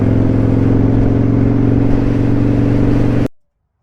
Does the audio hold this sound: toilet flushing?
no